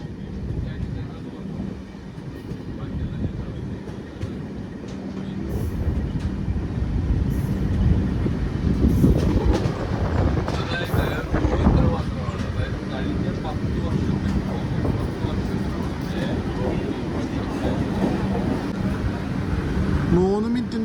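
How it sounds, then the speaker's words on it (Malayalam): Kozhikode Jan Shatabdi Express, an LHB-coach train, arriving at Aluva station: a steady low rumble of wheels on rail, swelling midway into a louder rattle and clatter as the coaches roll in, with talk and station noise throughout. "5 മിനിറ്റ് ഡിലേ ആയിട്ട് നമ്മളിത് ആലുവ സ്റ്റേഷനിൽ വന്ന് കയറിക്കൊണ്ടിരിക്കുക കേട്ടോ"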